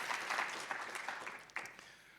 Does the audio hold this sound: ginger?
no